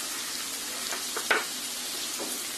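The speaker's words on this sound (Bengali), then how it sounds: "সবজিগুলি আমি 3-4 মিনিট ভেজে নিয়েছি।" Vegetables frying in a pan for prawn fried rice, a steady soft sizzle with faint stirring clicks, close but fairly quiet, with no talk.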